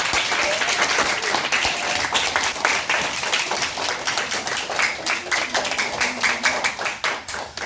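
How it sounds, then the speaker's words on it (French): Pupils at a school gathering with a visiting writer applaud steadily, a dense, sustained burst of many hands clapping at close range with a few brief voices mixed in. "Aminata Sow Fall, que je vous demande d'applaudir très fort."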